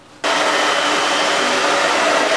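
A hair dryer switches on and blows at a constant, loud, close whoosh over hair set in Velcro rollers, with no voices.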